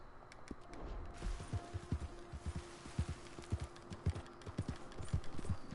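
Horse hooves clop on a road in the video game Red Dead Redemption 2, a steady rhythmic series of muffled thuds at moderate loudness over a low ambient hum.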